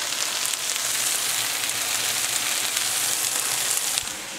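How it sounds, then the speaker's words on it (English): Homemade fajitas sizzle steadily in a hot pan, a dense, even crackle of frying that holds at a constant close level throughout with no voices. "I am currently cooking some homemade fajitas"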